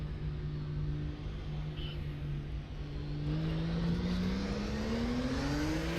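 Porsche 934 RSR Turbo racing at Spa in RaceRoom, its turbocharged engine droning loud and steady, then climbing in pitch as it revs up, close and alone without talk.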